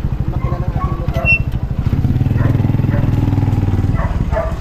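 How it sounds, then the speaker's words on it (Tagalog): A motorcycle engine idles close by with a steady, throbbing putter that holds even and loud throughout, with faint background noises above it. "Makina ng ating motor."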